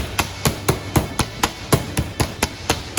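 A pork tenderloin fillet is batted out flat with a mallet, giving about twelve sharp, evenly spaced thuds in a steady rhythm, close and fairly loud, with no talking.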